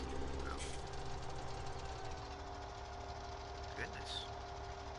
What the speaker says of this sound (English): Are you cold, little tractor? Are you cold? Or is that your motor rumble?